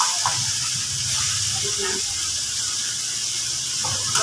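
Onions and tomatoes sizzle in hot oil for an onion khariya, a steady close hiss of frying with faint stirring underneath, no voices.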